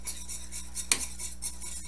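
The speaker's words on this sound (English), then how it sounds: "want to constantly whisk this so we don't have it burn or scorching to the bottom" A whisk works milk and cornstarch in a pot, giving a steady soft scraping with faint metallic clinks and one sharper tap against the pot, close and fairly quiet with no talking.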